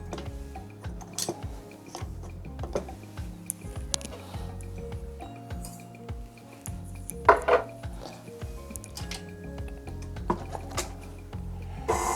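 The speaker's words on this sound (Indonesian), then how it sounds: "sekarang kita campurkan gula dan mascarpone cheese." Sugar and mascarpone cheese for an eggless tiramisu are mixed in a bowl, giving repeated clinks and scrapes of utensil against bowl with soft thuds, close and steady, with no talk.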